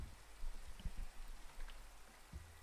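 Steady rain falls in the Minecraft video game, a soft, even hiss with scattered drop taps at low volume and no voices.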